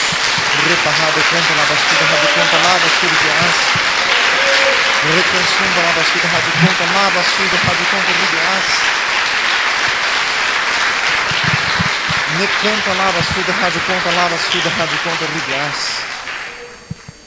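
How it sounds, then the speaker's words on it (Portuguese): Church congregation applauding during a Portuguese-language service, loud sustained clapping from many worshippers mixed with shouted praise and voices, fading out at the end. "Dê mais uma salva de palmas a Jesus."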